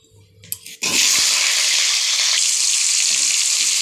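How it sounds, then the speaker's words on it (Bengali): Potatoes hit hot oil in a kadai wok and start a loud, continuous sizzle and crackle after a few brief clinks, steady to the end. "এবার কড়াইতে তেল দিয়ে আলুগুলো ভেজে নেব।"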